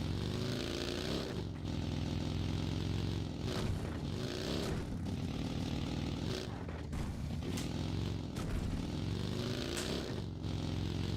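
Buggy engine droning steadily while driving in the BGMI mobile game, a continuous loud motor hum with shifting revs and occasional clattering bumps throughout, no speech.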